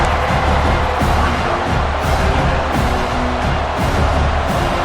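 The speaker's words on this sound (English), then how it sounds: "listen to this crowd noise. This stadium is vibrating" A roaring stadium crowd at a Georgia Bulldogs at Tennessee Volunteers college football game, loud and continuous with swelling cheers and rumbling chants filling the space.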